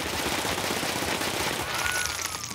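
Rapid pistol fire in Escape From Tarkov, a dense, continuous burst of loud shots with no gaps, close and harsh, with a faint ringing tone near the end.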